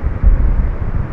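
Constant low wind noise from the horror game Ao Oni, loud and rumbling, swelling briefly near the start and then carrying on unbroken without any talk.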